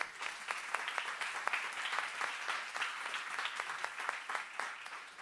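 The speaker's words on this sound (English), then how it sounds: "Why don't we give them an applaud?" A seminar audience at a corporate event gives a round of applause, close, even clapping with distinct individual claps standing out, continuing steadily throughout.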